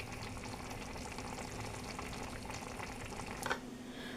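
Chicken, potatoes and Wagyu beans fry in a pan with a steady, quiet sizzle and bubbling, and a brief louder clatter near the end.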